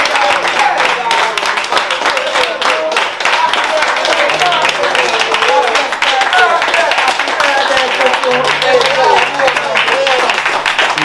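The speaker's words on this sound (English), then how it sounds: "So I'm going to give Tutu a big round of applause for her birthday" A small group applauds for a birthday at a community kitchen program, clapping and cheering fairly loudly over several seconds while voices call out among them.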